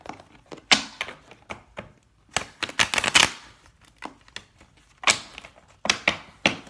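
Tarot cards are shuffled by hand in a quiet room, irregular bursts of riffling and soft slaps against a surface, close and crisp with short pauses between.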